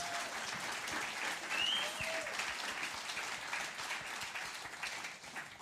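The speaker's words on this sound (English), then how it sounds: "One more round of applause for all of the artists here tonight" Steady applause from a live audience at a songwriters-in-the-round concert, a dense wash of clapping that holds at an even level throughout with a faint whistle briefly rising above it.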